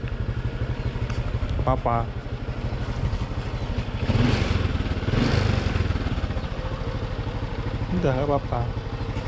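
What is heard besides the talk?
motorcycle engine idling and revving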